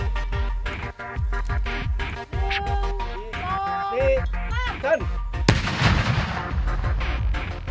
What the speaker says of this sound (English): To destroy a bomblet, the team set charges beside the unexploded device and use a 200-meter-long fuse.